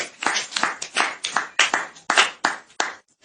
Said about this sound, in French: Acclamons très fort.